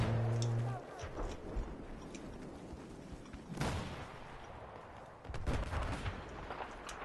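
Battlefield 4 combat on the Caspian Border map, with distant scattered gunshots and booming artillery-like bangs, quiet between bursts, plus a louder cluster of shots toward the end.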